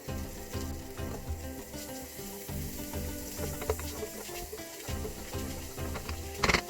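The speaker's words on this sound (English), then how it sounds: "So in our pan, I'm going to add 1 tablespoon of butter" A tablespoon of butter melting in a pan, a soft sizzle under low rumbling background noise, with a few light clicks and a brief clatter near the end.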